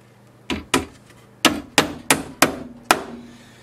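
A hammer drives 1.5-inch roofing nails into pre-drilled holes in a wooden bee brooder box, seven sharp ringing strikes in quick, slightly uneven succession, close and alone.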